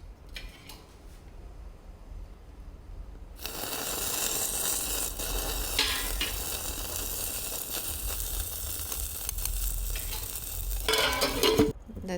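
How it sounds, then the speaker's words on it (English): Butter hits hot charcoal on a plate and bursts into a loud, crackling sizzle that runs steadily for several seconds, with scraping and rustling as the charcoal is covered for smoking a vegetarian kebab paste. "When you shift the charcoal to this plate, you have to immediately put butter over it and cover it tightly"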